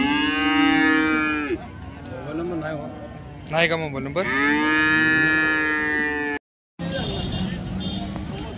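Cows at the Sangola cattle market low in long, drawn-out moos, several calls in a row close to the microphone, while people talk nearby and vehicle noise hums in the background.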